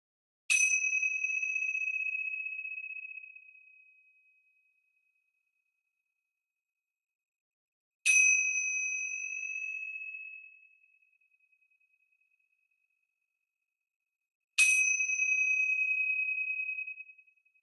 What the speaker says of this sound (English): You can let your attention come to linger on the sound of the chimes.